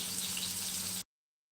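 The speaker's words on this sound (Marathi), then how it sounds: "मासे सुद्धा एका बाजूने फ्राय झालेत तसे उलटून घेऊया" Surmai (kingfish) sizzles in a hot pan with a steady, even hiss for about a second before it cuts off abruptly.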